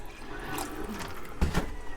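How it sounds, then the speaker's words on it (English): Water from a gallon jug pours into a soup pot of fish and shrimp soup, a soft continuous splashing trickle with a brief louder gush near the end. "I'm gonna add a little bit of more water."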